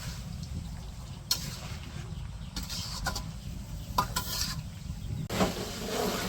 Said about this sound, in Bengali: এই যে হচ্ছে গরুর ভুঁড়িগুলা আস্তে আস্তে কষে নিতেছে